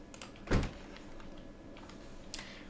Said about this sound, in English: Ooh, makes a click sound. The doors, oh, and the lights come on as well when you open the door.